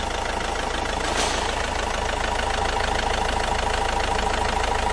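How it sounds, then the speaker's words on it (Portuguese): A 2013 Renault Master 2.5 diesel van engine with an injection fault idles steadily and evenly for several seconds with a low, continuous rumble and no voices. "Dá uma olhadinha como é que ficou o funcionamento da lenta do carro"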